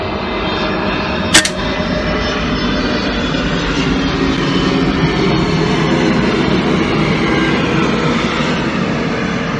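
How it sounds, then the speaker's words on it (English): A fixed-wing airplane passes overhead unseen on a rainy day during outdoor air rifle testing, a loud steady broadband engine roar filling the whole stretch with one sharp crack near the start. "that plane just went over and I couldn't even see it"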